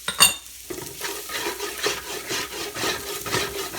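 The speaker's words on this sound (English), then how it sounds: "Give it a nice little scrape. Get that bottom residue that's called a fond." A utensil scrapes the bottom of a pot of baked beans in a series of rough, rasping strokes at a steady rhythm, close and clear, with a soft sizzle underneath and no voices.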